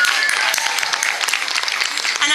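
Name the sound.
crowd applause at a march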